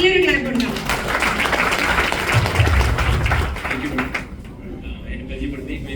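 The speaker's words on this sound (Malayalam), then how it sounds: "നല്ലൊരു ക്ലാപ്പ് ഉണ്ടാവും." Clapping from an audience at a business seminar, dense and lively under a speaking voice, fading out after about four seconds and leaving quieter room sound.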